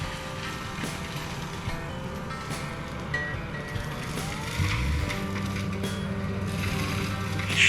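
Low engine drone of a tractor working nearby, with crunching and grinding of cut broom being shredded, a tonal whine rising partway through.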